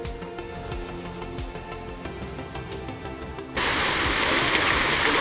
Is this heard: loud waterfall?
yes